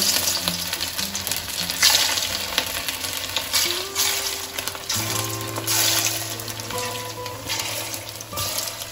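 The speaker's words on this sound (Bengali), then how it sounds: "এইভাবে আমি সমস্ত বড়াগুলোকে ভেজে নেব।" Small shrimp fritters frying in hot oil give off a steady close sizzle, with stirring clinks and faint background kitchen noise throughout.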